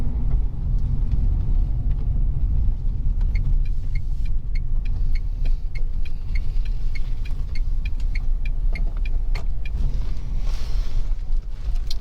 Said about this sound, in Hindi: ये जो गाड़ी चल रही है वो सिटी मोड पे